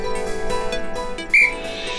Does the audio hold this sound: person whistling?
yes